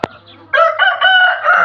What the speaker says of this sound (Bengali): তো এইখানে এটা টাইগার মুরগি